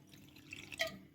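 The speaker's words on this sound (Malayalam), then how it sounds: "കുറേശ്ശെയായിട്ട് വെള്ളം ഒഴിച്ചു കൊടുക്കാം." Water trickles little by little into a bowl of egg bajji batter made from mixed flour and spices, giving soft quiet drips and one brief brighter splash near the end, with no voices.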